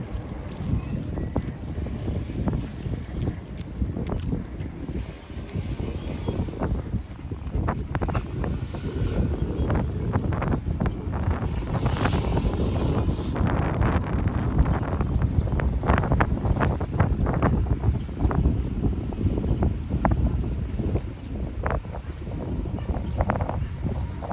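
Strong wind buffets the microphone in continuous roaring gusts, loud and rough, with no speech heard.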